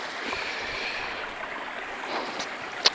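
A stream flows along a path toward the Fátyol waterfall at Szilvásvárad, making a steady, moderately close rushing wash of water with a brief sharp tap near the end.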